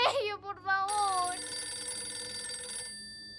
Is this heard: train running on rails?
no